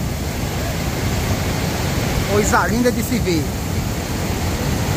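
The Cachoeira do Urubu waterfall in Primavera, Pernambuco, running with a large volume of water after heavy rains, gives a steady, loud broadband roar, with someone speaking briefly over it.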